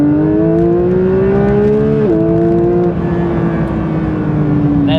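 A Porsche 911 GT3 engine revs hard toward 9,000 RPM, a loud, close, smooth rising wail that climbs, briefly dips and steps up again, then holds a high sustained tone with no talking.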